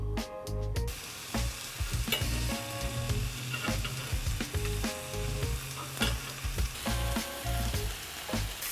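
Citrus-marinated chicken skewers sizzle in an oiled grill pan over high heat, a continuous close frying crackle broken by repeated knocks and clatters as the skewers are turned.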